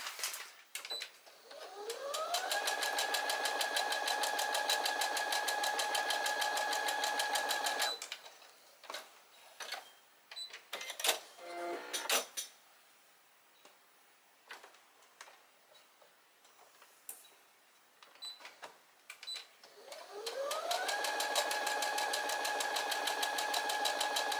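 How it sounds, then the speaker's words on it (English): A sewing machine runs basting stitches on a 1990s-style dress from a McCalls pattern, with two long steady whirring bursts that speed up and then hold, separated by clicks and handling of fabric. "So I got those basting stitches put at the shoulder,"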